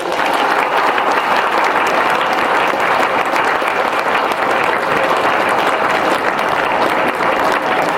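Loud, dense applause from school students at a government high school, a continuous roar of many hands clapping evenly throughout, close and strong with no talking over it.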